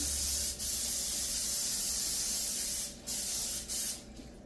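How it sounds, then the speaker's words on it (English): A loud, continuous aerosol spray of vegetable oil hisses close up onto a baking pan, broken by a few brief pauses, with no voices. "You're going to spray with vegetable oil or whatever your preferred spraying is. Spray it good."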